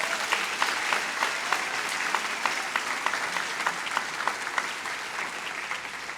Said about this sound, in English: let's have a round of applause for the graduates gathered here today